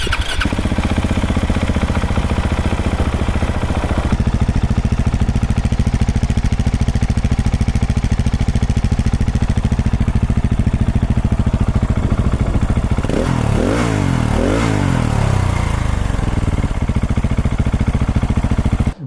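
A loud 2024 KTM 690 Enduro R motorcycle engine with an aftermarket exhaust idles with a deep, throaty exhaust rumble, then revs sharply a few times before settling back to a steady idle.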